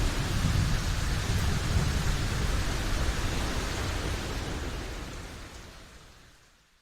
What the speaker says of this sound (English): Thunder crashes and the comms go silent for the rest of the storm.